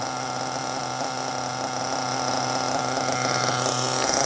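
An HSP Nitro Pro 1/8 monster truck's 21CXP 3.5cc nitro engine idles outdoors in the shade at about 14 degrees, a constant buzzing drone with steady humming overtones, fairly loud and alone.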